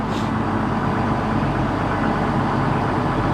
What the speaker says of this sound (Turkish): traktör ısındı